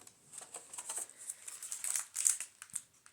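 A paper security envelope is being cut down, giving a stream of light, close crinkling and snipping rustles that rise and fall irregularly without any talking.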